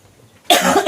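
A single sharp, close cough bursts out after a moment of near silence.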